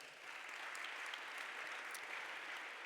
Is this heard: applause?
yes